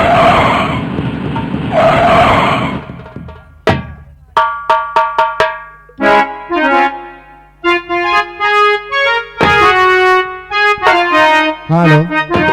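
Car tires skid loudly for about three seconds as a vehicle pulls up during a Hindi nautanki folk-theatre performance, followed by harmonium-style music with rhythmic percussion.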